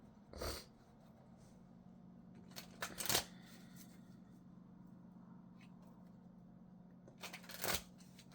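Osho Zen Tarot cards shuffled by hand in a quiet room, a few brisk riffling bursts near the start, middle and end over a low steady hum, with no speech.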